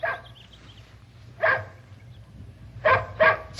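A dog named Peanut barks three times in short, loud bursts, one alone and then a quick close pair, in an old-time radio drama scene where the dog is being trained with treats.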